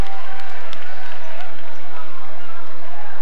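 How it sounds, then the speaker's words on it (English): Basketball arena crowd noise as a fouled player heads to the free-throw line: a dense, steady roar of many voices, loud and continuous with no single voice standing out. "So listen to the crowd when he goes to the line"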